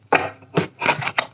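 Tarot cards being shuffled in a few quick bursts, close and fairly loud, with short pauses between the riffles.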